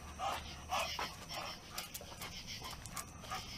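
A dog pants rhythmically outdoors during a neighborhood walk, quick breaths close to the listener over faint background noise and occasional clicks, with no talking.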